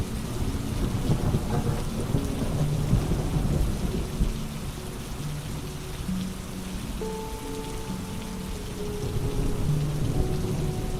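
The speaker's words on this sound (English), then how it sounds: "the gentle rain will keep you company a little longer." Steady rain pours down in a dense, unbroken wash, with low thunder rumbling through it and swelling near the start and end, and no voices.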